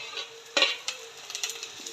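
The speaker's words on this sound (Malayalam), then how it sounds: "കറിവേപ്പില ഇട്ട് കൊടുക്കാം." Curry leaves sizzle in hot oil with garlic, green chillies and chopped ginger as they are stirred, giving a steady crackle broken by a few sharp spatula scrapes and pops, close by and without talk.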